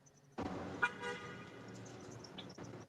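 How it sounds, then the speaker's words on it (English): A car passes outside with a short horn toot. It sounds distant and muffled, with a steady rumble lasting a couple of seconds. "I hear a car?"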